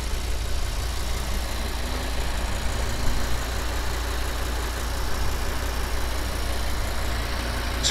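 A 2012 Lamborghini Gallardo LP 550-2 with a 5.2-liter naturally aspirated V10 idles smoothly and steadily close by, a constant low rumble with no voices.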